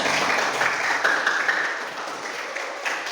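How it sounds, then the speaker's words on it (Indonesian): Classroom applause for a student group, a moderate burst of many hands that swells briefly and then tapers off gradually over about three seconds. "Beri tepuk tangan"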